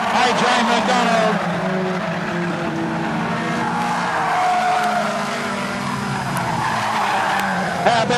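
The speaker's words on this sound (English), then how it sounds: "Junior Sedan Racing Pro1 race time." Junior sedan race cars at Maryborough Speedway in a Pro1 Top Star Series A-Main, with engines roaring and tires skidding and squealing close by, continuous and loud throughout.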